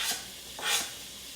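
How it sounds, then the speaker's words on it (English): Bacon sizzles in a pan on the stove for pasta carbonara, a soft hiss with two brief swells as pieces are stirred, faint and with no talking. "We're going to add our bacon in here."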